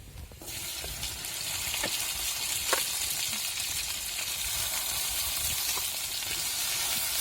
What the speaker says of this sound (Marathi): आता आपले जिरे पण चांगले लाल झालेले त्याच्यानंतर आपल्याला भेंडी टाकायची